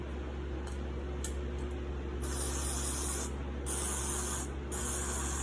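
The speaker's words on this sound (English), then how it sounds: "Spray it real good like that." A hand-pumped pressure spray bottle mists oil onto cassava pieces on a tray, giving several close, hissy bursts of varying length over a steady low hum.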